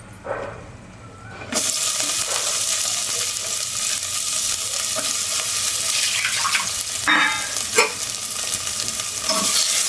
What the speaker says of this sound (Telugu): కొంచెం ఆయిల్ వేసుకొని పచ్చిమిర్చి వేయించుకుందాం